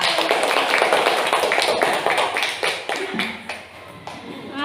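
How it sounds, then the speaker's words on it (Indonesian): Fifth-grade classroom applauding a student group, with many quick, loud, overlapping claps in a steady burst that thins toward the end, mixed with some children's voices. "Ya, tepuk tangan untuk kelompoknya Zulfa."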